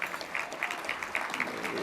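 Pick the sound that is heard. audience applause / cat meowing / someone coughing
audience applause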